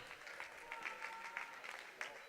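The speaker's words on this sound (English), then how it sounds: "amongst the student section, you hear an awful lot of cheering." Student section cheering at a girls' high school basketball game in a gym, a steady roar of applause and crowd noise with a few sharper peaks, heard at a distance under a commentator's talk.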